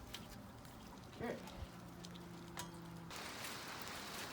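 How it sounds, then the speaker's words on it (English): Rain falling steadily outdoors around a Massey Ferguson 1800 tractor under repair, a soft continuous patter with brief knocks and a faint hum, growing slightly heavier toward the end. "it's raining now"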